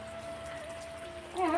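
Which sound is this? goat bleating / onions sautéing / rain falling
rain falling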